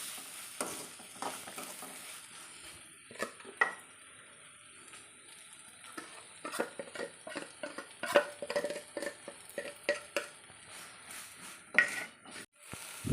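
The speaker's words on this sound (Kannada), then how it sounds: "ನಾನು ಎತ್ತಿಟ್ಕೊಂಡಿರೋ ಖಾರನ ಇವಾಗ ಇದಕ್ಕೆ ಹಾಕ್ಕೊಂಡು ಒಂದು ಸಲ ಎಲ್ಲ ಚೆನ್ನಾಗಿ ರೀತಿ ಫ್ರೈ ಮಾಡ್ಕೊಳ್ತೀನಿ" Onions and chili masala frying in a pan for a village-style ridge gourd bassaru, a faint sizzle broken by repeated stirring scrapes and light clinks of utensil on metal.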